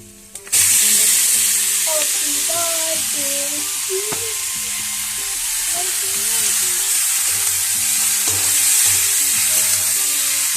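Vegetables go into a pan of browned onions and fry with a loud, steady sizzle that holds close and continuous, with faint background sounds.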